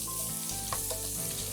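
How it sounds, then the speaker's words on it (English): Onion and garlic sizzle steadily in olive oil and bacon fat in a pan, a close continuous frying crackle with faint stirring clicks and no talking. "We just want enough oil just to get our onion frying"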